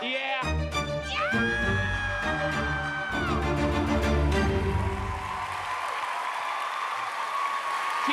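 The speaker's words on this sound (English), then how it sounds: "Keep that applause going right now." Concert audience applauding at an evening music salon, a burst of clapping that runs under a sustained sung or played tone before thinning out toward the end.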